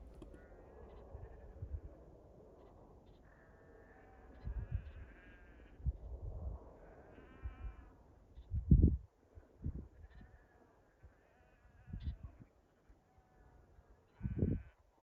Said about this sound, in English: working Sky, Ralph and Roxy, just gently pushing the sheep slightly further over to the other side of the hill